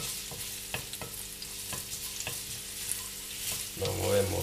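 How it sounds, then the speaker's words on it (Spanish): Garlic frying in hot oil in a pan for a green bean and tuna dish, a continuous close sizzle punctuated by rhythmic scraping stirs, swelling louder at the end, with no voices. "Cuando el aceite ya esté un poquito caliente, primero echamos el ajo y lo movemos un poquito."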